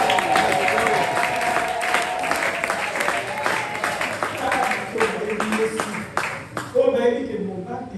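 Applause fills a church service after a sung alleluia, a dense steady clatter of many hands with cheering voices and talk mixed in throughout, easing slightly toward the end.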